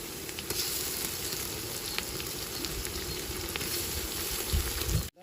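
Onions and spices sizzle steadily in a hot pan for a Nellore-style fish curry, a continuous close crackle with faint stirring clicks, cut off abruptly at the end.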